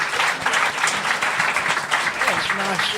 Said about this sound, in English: Ladies and gentlemen, please a massive round of applause for Barry from Watford!